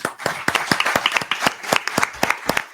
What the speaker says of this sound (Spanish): Bueno, señores, un aplauso